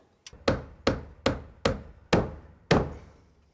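Seven sharp hammer blows, close and loud, struck at a steady rhythm with a short ringing decay after each hit.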